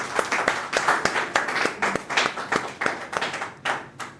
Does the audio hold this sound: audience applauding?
yes